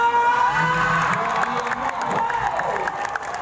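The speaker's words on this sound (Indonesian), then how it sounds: "Sekali lagi tepuk tangan." A crowd cheers and applauds at an elite-class horse race in Takengon, with loud, sustained clapping, shouts and whoops filling the whole stretch without a break.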